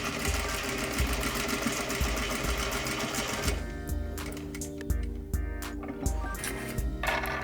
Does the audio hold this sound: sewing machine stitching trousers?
yes